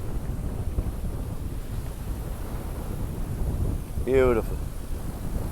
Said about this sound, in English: Squally here because you get the wind tunnel